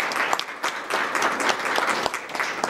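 An audience at a regional ISESCO seminar applauds Dr Djeneba Doumbia, director of peace research, with dense, lively clapping throughout, loud and close.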